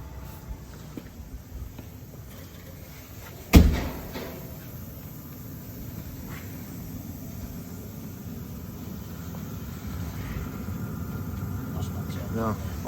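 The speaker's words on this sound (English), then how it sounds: "I'll shut the door." A single solid thunk as the door of a Citroen Ami is shut from inside, close and abrupt, followed by a steady low hum of a running heater and engine noise.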